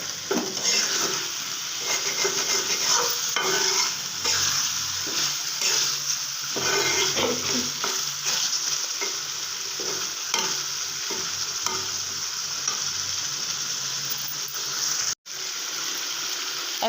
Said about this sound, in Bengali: এখন একটু গোশটা ভাজা হয়ে গেছে, ভালো করে ভাজা হয়ে গেছে মশলাটা